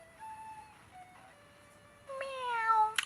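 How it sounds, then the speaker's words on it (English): A cartoon cat in the Piggy in Numberland video game meows twice, a short soft mew followed by a longer, louder rising meow. Both are clear and close, with no talking over them. "That sounds like a cat."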